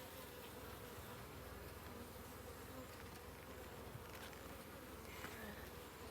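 Honeybees buzz around an open hive during a hive inspection, a steady, dense insect hum that runs throughout at low volume.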